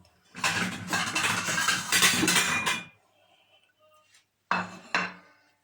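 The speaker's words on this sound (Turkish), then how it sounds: "Tabağımızı şöyle koyalım." A plate set down with a short clatter of dishes and cutlery, preceded by a longer stretch of clinking kitchen handling, then two sharp clinks near the end.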